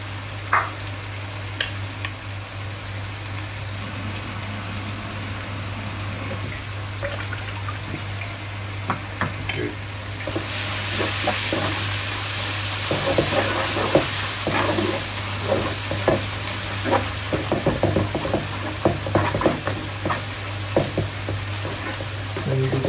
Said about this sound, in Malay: Kita tumis rempah kita ini.